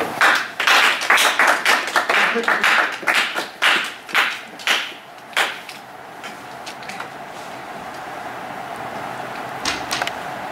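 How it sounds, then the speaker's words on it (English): Audience applause before an interpretative reading, crisp and distinct individual claps in a steady, slowing rhythm that thins out over about six seconds, leaving a quiet room hum. "Let's give her a big round of applause."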